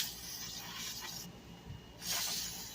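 Cleaner is sprayed onto spilled brake fluid around a Dodge Charger front brake caliper, two faint hissing aerosol bursts separated by a short pause, recorded at low level.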